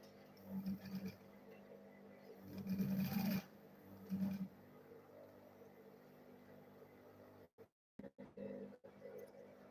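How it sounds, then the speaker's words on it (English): A sewing machine stitches a bag in short bursts of fast, even mechanical whirring, three runs separated by pauses, close up with some handling noise near the end. "Then I'll go ahead and sew it once again."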